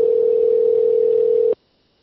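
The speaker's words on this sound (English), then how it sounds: "You might hear a little ringtone" A steady telephone tone sounds while a call connects. It is a single loud continuous note that holds for about one and a half seconds and then cuts off abruptly into silence.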